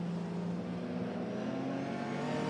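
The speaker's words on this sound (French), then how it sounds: "L'équipage Clark Smith sur la Jaguar Type E numéro 18 qui s'est écarté et qui vraisemblablement a préféré sagement ne pas se mêler à cette bagarre" Jaguar E-Type race cars roar at the Le Mans Classic, with a dense, steady engine drone that holds loud and unbroken throughout, like cars passing close together on track.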